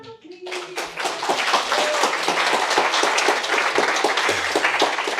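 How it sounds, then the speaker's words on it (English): A large audience breaks into a sustained round of applause for a panel at a Welsh Government, Samaritans and NHS discussion event, the dense clapping swelling quickly and holding steady and loud throughout. "Another round of applause"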